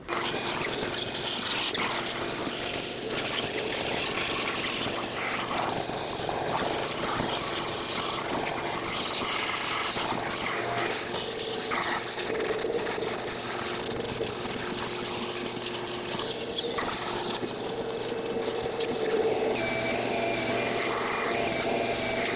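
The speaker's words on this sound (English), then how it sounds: "I'm gonna get a vacuum and clean all this up" Shop vacuum running steadily up close, sucking debris off the engine of a 2003-2021 Chevrolet Express van during valve cover work, a continuous rushing whine with slight shifts as the nozzle moves.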